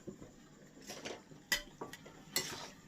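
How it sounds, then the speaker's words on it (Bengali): Fried potatoes tipped into a pot of Bengali-style mutton curry where the oil has separated from the meat, giving a few soft clattering knocks and scrapes of spoon against metal pot with light background sizzle. "এরপর আমি এর মধ্যে আলুগুলো দিয়ে দেবো।"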